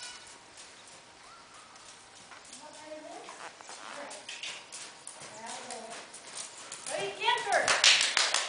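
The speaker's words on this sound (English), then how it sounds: "He shook his head and started to go into a canter." A horse's hooves clip-clop as it breaks into a canter during a training session, the rhythmic beats growing louder and quicker toward the end, with a voice talking over them.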